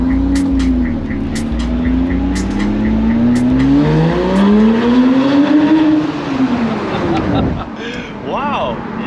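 Porsche Cayman 987 with a loud aftermarket exhaust revving hard close by, a sustained rising and falling engine drone echoing off surrounding walls, ending with a sharp rev burst; people talk briefly over it.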